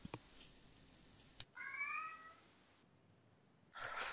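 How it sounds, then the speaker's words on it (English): A pet cat gives one short, clear meow indoors, faint and close, set between quiet pauses and brief rustling noises. "my cat"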